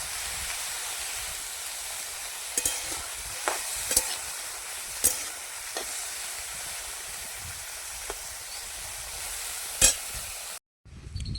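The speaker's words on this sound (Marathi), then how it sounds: "पहिल्यांदा शेंगा भाजणं हे खूप महत्त्वाचं आहे" Cluster beans (gavar) roast in a pan with a steady sizzling hiss, broken by scattered sharp pops and crackles, close and moderately loud, then a sudden cutoff near the end.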